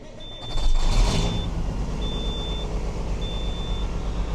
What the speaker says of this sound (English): Go start this thing. Come on, Peterbilt. Don't let me down.